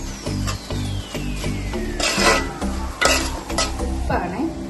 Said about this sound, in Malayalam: കുറച്ച് ഉലുവാപ്പൊടി, ഇത് നന്നായി ഇളക്കി